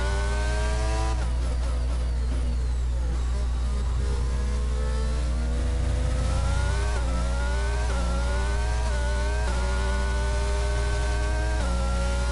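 Formula 1 race car engine in F1 22 at the Texas Grand Prix, a loud, continuous high-pitched whine that climbs and drops through gear changes as the car accelerates, with no talk over it.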